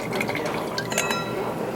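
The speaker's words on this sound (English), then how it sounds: "rinsing out our glasses with the wine that we are just about ready to taste" Red Super Tuscan wine poured into tasting glasses and swirled to rinse them, a close, steady liquid trickle with small clinks and splashes lasting throughout.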